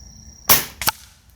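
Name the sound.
25 Avenger air rifle shot at a flyswatter target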